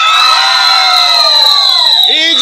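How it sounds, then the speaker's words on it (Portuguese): A large crowd of shrill, excited voices, many of them children, shouts and cheers loudly and without pause at a live drag queen singing-telegram show in São José da Coroa Grande. "Quem tá feliz, dá um grito."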